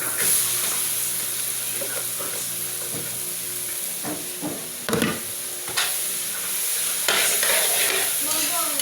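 Bottle gourd sautéed with dried shrimp sizzles steadily in a pan, with repeated sharp scrapes and clinks of a utensil stirring, heard close up and without talking.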